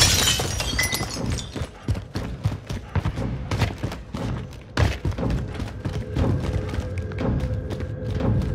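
Glass shattering in the Warzone battle royale game, a burst of sharp breaking crashes and thuds in quick succession over busy in-game noise, fairly close and loud.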